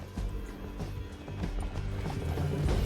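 A horse galloping in Red Dead Redemption 2, rhythmic hoofbeats clip-clopping close by under game ambience, with occasional mechanical clicks and no speech.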